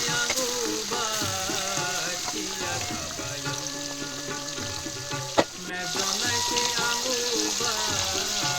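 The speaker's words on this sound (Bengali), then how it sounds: "মাছগুলোকে ভেজে নেব।" Marinated tangra fish frying in hot oil in a kadai, a dense continuous sizzle with a tonal music-like layer running underneath and one sharp knock midway, close and steady.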